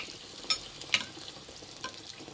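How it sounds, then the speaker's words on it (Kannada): Semolina pooris frying in hot oil as oil is spooned over them to puff: a faint, steady bubbling hiss broken by a few small clicks and splashes. "ಫ್ರೆಂಡ್ಸ್ ನೋಡಿ, ಈ ರೀತಿ ಎಣ್ಣೆ ಹಾಕಬೇಕು, ಉಬ್ಬುತ್ತೆ ಚೆನ್ನಾಗಿ."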